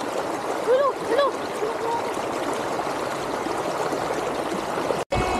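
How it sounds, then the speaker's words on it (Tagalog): A small river flows in a continuous, steady babble of running water, with a few brief bird chirps early on. "medyo maliit ang ilog ngayon"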